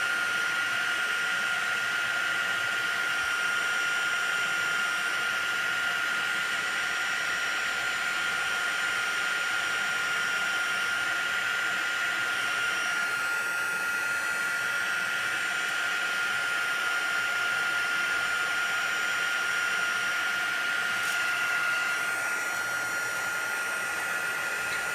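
A heat tool blows steadily and loudly to melt silver embossing powder on a rubber-stamped image, a constant whooshing hum with a thin high whine running throughout.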